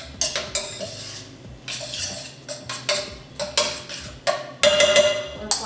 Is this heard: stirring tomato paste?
yes